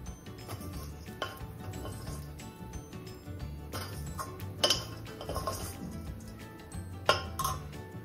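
Beetroot coconut curry is scooped from a kadai into a bowl, with scattered metallic clinks and scrapes of utensils against pots, two sharper knocks standing out over a low background rumble.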